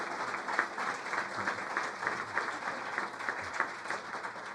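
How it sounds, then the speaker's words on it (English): Town hall audience at a community forum on opioid abuse applauding a panel, a steady wash of many hands clapping at moderate distance, fairly quiet and even throughout, with no talk over it. "So let's give them a round of applause for all of that."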